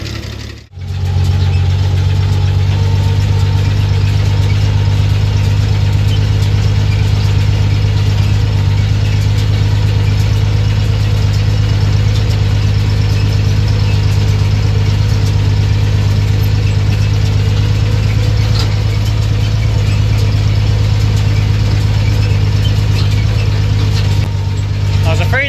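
An old tractor engine runs steadily throughout while chopping third-crop hay, a loud, continuous low drone with mechanical rattle and a sudden cut near the very end; faint voice may sit beneath.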